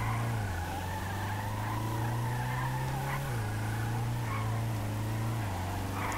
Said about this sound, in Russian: Такой вот арабский дрифт получается, конечно, но это все же не то, чего мы с вами ожидали от данного автомобиля